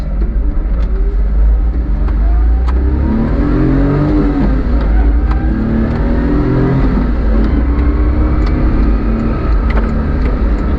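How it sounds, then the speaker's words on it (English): Small engine of a Daihatsu Midget microtruck running and driving, a loud, steady mid-pitched drone with rising revs and shifting tone, close and continuous, with no talk. "Let's start this thing up."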